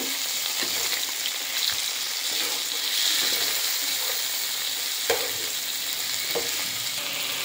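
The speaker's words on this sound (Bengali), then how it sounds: "দেখতেই পাচ্ছ পেঁয়াজটা ভাজা ভাজা হয়ে এসছে।" Onions, green chillies and whole spices frying in a pan for a fish-head muri ghonto, a dense, loud, steady sizzle with a few stirring knocks, heard close with no talking.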